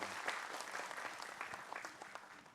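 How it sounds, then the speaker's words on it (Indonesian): An audience at an Islamic talk applauds a religious teacher being welcomed to the stage, a moderately distant patter of many hands clapping with a few sharper claps standing out. "Tepuk tangan buat Ustadz Faris silakan."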